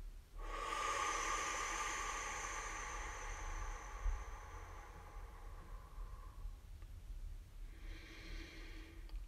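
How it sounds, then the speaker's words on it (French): A long, slow breath pushed out through the mouth during a relaxation exercise, a breathy hiss that lasts several seconds and then trails off, with a second fainter breath near the end. "et d'expirer par la bouche."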